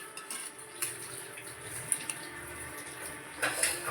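A spoon stirs cooked chicken biryani made with seeraga samba rice inside a pressure cooker, giving soft, scattered metallic clinks and scrapes. The sound is faint and close, with no talking.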